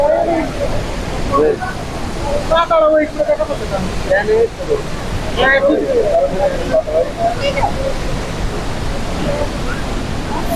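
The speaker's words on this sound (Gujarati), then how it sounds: "જો કેટલો પ્રવાસ છે પાણીનો અહીંયા જોરદાર" Loud, constant rush of the fast-flowing Saraswati river near Badrinath and Mana village fills the scene, with a person talking over it in bursts.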